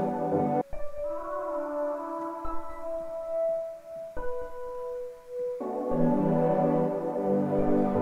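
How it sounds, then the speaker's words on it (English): A synth pluck sample from Splice plays as clear, sustained tonal notes in a sparse phrase, with a fuller chordal section arriving near the end; no voices. "I added this pluck, which I found on Splice"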